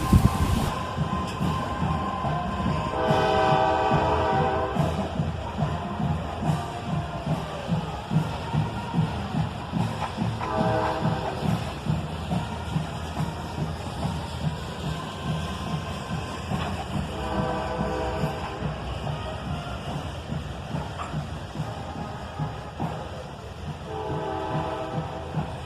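Diesel freight locomotive sounding its horn repeatedly while creeping past a road packed with parade crowds beside the tracks, long blasts recurring over steady rumbling railcars and wheel noise, loud and close.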